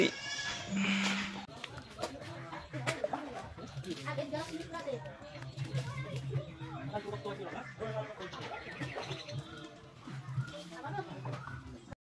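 A goat bleats a few times close by while people talk over and around it.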